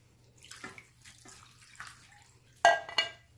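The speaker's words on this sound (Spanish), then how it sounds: "Y le voy a poner agua." Water is poured into a frying pan that holds a container of beef fat for making soap: a few short splashing pours with quiet gaps, and the loudest gush near the end.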